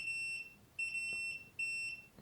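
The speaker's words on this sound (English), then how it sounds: "So let's do a little continuity check. Okay, buzzer's working." Multimeter continuity buzzer sounding during a repair check on a Roland SoundCanvas SC-88 circuit board, three steady high-pitched beeps of about half a second each with short gaps between them, clear and alone.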